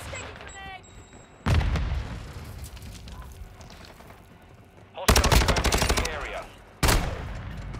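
Heavy bursts of gunfire erupt in Call of Duty: Modern Warfare II Domination multiplayer, loud automatic fire in several blasts with booming impacts, separated by quieter stretches of game ambience.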